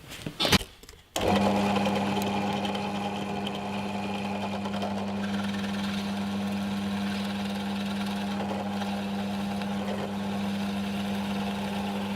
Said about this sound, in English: going to drill a hole out here now at 15mm with a Forstner bit over at the drill press table